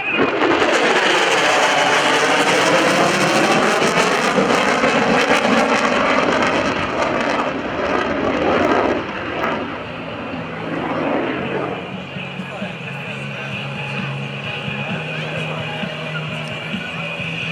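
An F/A-18F Super Hornet jet roars past with afterburner at an airshow, a loud sweeping blast that fades into a distant rumble, with a voice talking over it.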